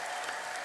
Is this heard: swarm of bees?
no